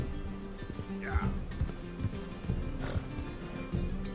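A horse in Red Dead Redemption 2 gallops with a rhythmic clip-clop of hooves and a short whinny, all under steady talking from players.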